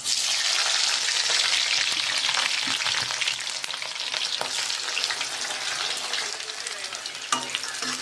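Onions and chilies frying in mustard oil in a kadai, a loud, dense, close sizzle that holds steady throughout with faint stirring ticks.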